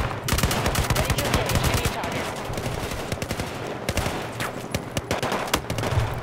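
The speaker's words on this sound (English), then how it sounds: "shot fired" Rapid automatic gunfire fills a Battlefield 4 firefight, with dense, loud bursts of shots rattling continuously and a faint voice briefly underneath.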